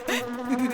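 In a Chhota Bheem cartoon, a fly gives a brief, close buzz with a wavering whine that rises and falls over under a second.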